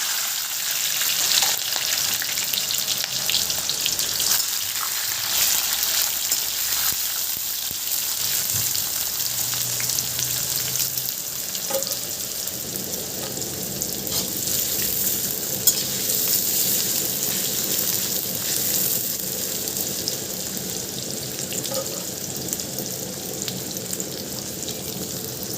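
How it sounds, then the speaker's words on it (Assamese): Jackfruit and potato pieces fry in mustard oil in a kadai, giving a continuous, fairly loud sizzle with faint stirring scrapes throughout and no talking. "এতিয়া মই এইখিনি ফ্ৰাই কৰি ল'ম।"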